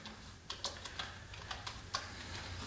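Computer keyboard keys click in a short irregular burst of about a dozen light taps while a number is entered into CNC control software, quiet and close over a low steady hum.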